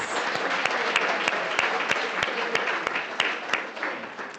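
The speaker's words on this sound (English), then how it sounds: "Let's give our poets another round of applause." Crowd applause for poets at a youth civic education event at Msunduzi Athletics Stadium, a steady roar of many hands with one loud nearby clapper keeping a regular beat, fading slightly toward the end.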